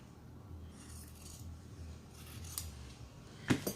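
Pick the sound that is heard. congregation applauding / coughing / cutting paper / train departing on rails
cutting paper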